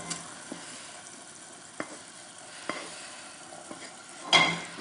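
Simmered vegetables stirred into white wine in a pan, with a soft continuous bubbling sizzle, a few light utensil taps and a louder scrape near the end, close up and without talk.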